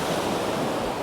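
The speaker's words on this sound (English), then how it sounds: "very calming and soothing about the waves crashing to the shore" Atlantic Ocean surf washing onto a beach at Spiddal, Connemara as the tide comes in, a loud, continuous roar of breaking waves with wind noise over the microphone.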